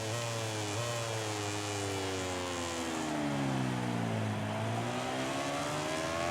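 Engine of a racing motorcycle in MotoGP 18 drives hard out of a corner, a loud sustained buzzing whine that drops in pitch through a gear change and then climbs steadily again.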